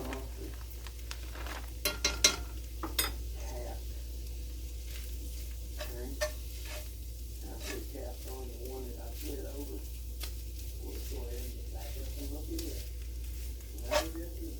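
A food mixture being stirred in a pan in a homestead kitchen, soft repeated scrapes and clinks with a faint sizzle under quiet talk, a few sharper knocks standing out.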